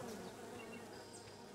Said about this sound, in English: that's bees!